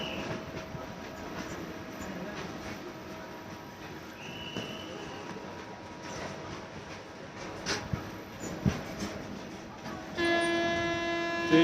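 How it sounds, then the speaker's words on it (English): The Kirandul Express, train 18551, rolls on its rails with a steady low rumble of the engine and wagons, occasional clanks and squeals, and a louder rattling surge near the end. "So you can hear the sound of engine also."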